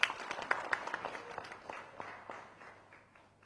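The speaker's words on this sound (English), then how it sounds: "Give him a big round of applause" Applause from an audience at a book launch ceremony, a burst of clapping that starts fairly strong and gradually thins and fades over a few seconds, with no talk over it.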